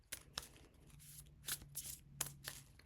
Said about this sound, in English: I'm feeling like I need to shuffle it one more time.